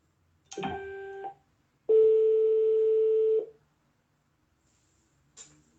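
A telephone line signalling an incoming international call: two steady electronic tones, a short one then a longer held tone, followed by silence and a brief faint blip near the end, with no voices.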